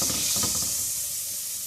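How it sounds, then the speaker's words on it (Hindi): Butter melting in a pan for white sauce, a close, steady hiss and sizzle with a few soft crackles at the start, tapering slightly, no talking. "ये मैं वाइट सॉस बना रही हूँ। ये ज़रा मेल्ट हो जाए बटर।"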